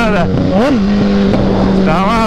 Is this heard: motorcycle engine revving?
yes